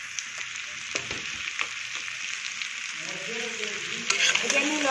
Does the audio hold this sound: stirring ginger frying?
yes